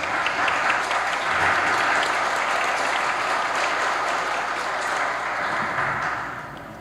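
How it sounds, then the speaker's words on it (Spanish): A seated audience at a judicial conference gives dense, sustained applause that stays loud and even throughout before tapering off slightly at the end, with no voices over it. "le solicito al público asistente un fuerte aplauso para ambos"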